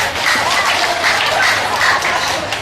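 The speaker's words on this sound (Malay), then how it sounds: "Bagi satu tepukan." Crowd at a political rally claps steadily, a dense, close wash of applause holding at an even level throughout, with no speech over it.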